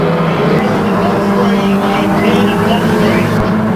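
F1 stock car racing engines roar loud and continuous at Kings Lynn oval as a pack of cars with back markers among them runs the track, a dense unbroken engine drone.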